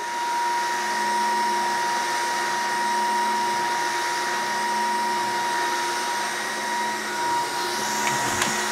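A Dreame H14 Pro wet-dry vacuum cleaner runs steadily with its roller scrubbing the floor, a loud continuous whirring hum with a high whine that stays constant throughout.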